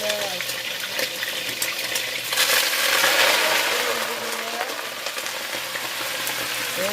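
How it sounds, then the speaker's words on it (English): Steady sizzling and crackling of greens frying in hot grease, a broad hiss with brief pops, close by, with faint voices in the background. "And get to frying them down."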